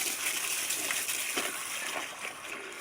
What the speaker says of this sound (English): Now I'm just flushing it with the regular hose.